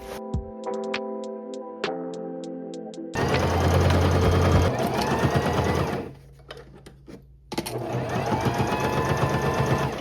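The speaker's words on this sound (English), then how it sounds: "So right now I can set up my sewing machine and start attaching these liner pieces together." A sewing machine stitches bag liner fabric pieces in short bursts with a steady rapid stitching rhythm, pausing briefly between runs, close and fairly loud.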